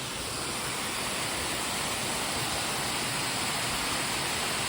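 Forest Camp waterfall in the mountains of the Philippines, fed by a spring, pours in a steady, dense broadband roar that fills the whole clip evenly and close by, with no voices over it.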